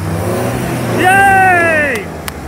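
A 4WD vehicle labours off-road through a boggy track, its engine note climbing into a strained rev and then falling away, heard close amid excited voices.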